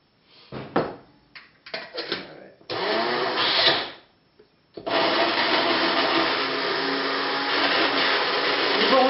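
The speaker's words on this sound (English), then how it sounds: "This will just loosen it up and make it stirrable for that little rascal, the magic bullet." A Magic Bullet blender whirs in a home kitchen, cutting in and out in short bursts before settling into a steady loud grinding drone, with brief handling clatter between runs.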